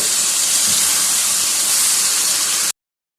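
Chicken masala frying and drying out on high heat in a pan: a steady, loud, broadband sizzle and hiss that runs without pause, then cuts off abruptly.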